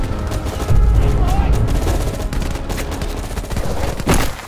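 Gunfire in a firefight from the video game Call of Duty Black Ops Cold War, dense overlapping automatic shots and booms, loud and continuous with a voice speaking over it.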